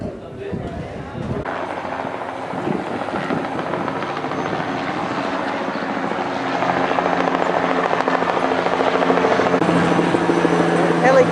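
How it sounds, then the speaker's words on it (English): A helicopter drones overhead in Split, Croatia, its rotor chop growing steadily louder over several seconds, with a voice talking faintly underneath. "Helicopter"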